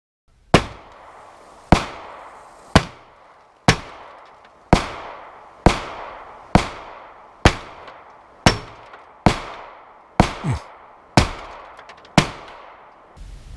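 Thirteen sharp gunshots fired at a car, spaced roughly a second apart in a steady rhythm, each a loud close crack with a short decaying echo, no talking.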